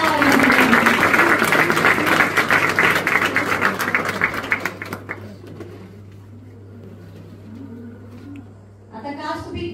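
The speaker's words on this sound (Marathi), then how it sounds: "आपल्या शब्दांसाठी एक जोरदार टाळ्या वाजवा." An audience bursts into loud, sustained applause at a demonstration, the dense clapping fading out over about five seconds into a quiet room with a low steady hum, then a voice begins speaking near the end.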